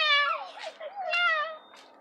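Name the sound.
person imitating a cat meowing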